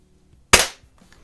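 A single sharp shot from a compact spring air rifle, either a Gamo Expo or a Slavia 618, cracks close and loud, then its tail decays over about a quarter second before quiet returns.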